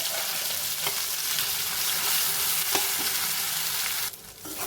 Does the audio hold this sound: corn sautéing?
yes